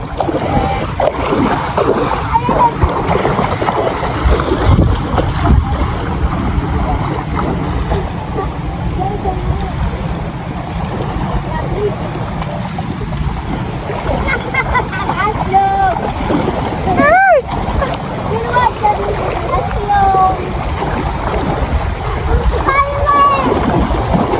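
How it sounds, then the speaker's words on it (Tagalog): A motorboat drones steadily across the water with splashing and wind, while people talk and call out over the engine throughout. "sumakay kami sa bangka"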